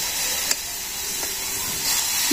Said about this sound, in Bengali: এখন সামান্য পরিমাণে জল দিয়ে দিব